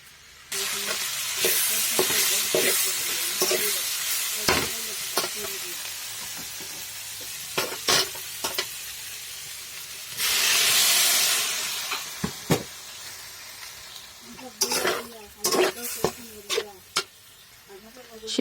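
Beans curry frying in a pan hisses into a loud burst of sizzling steam as water is poured in, with intermittent clinks and stirring before and after.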